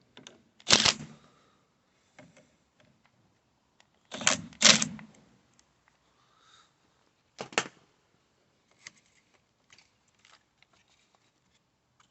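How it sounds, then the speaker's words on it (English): A 10mm socket ratchet working on the battery bolts of a VW Polo, giving a few sharp metallic clicks and clatters spaced out over several seconds, with quiet pauses between bursts. "Now we've got two 10mm bolts on the battery. Our 10mm socket here."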